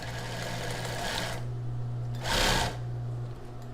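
A sewing machine backstitches on a plus-size bra with a wide strap, running steadily in a continuous whir, pausing briefly, then a short louder burst of stitching, all close up with no talking.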